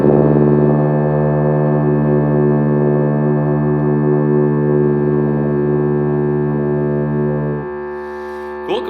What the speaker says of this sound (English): The next note that we're going to learn is D,